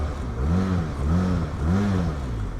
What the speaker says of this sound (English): Such a pleasing exhaust note.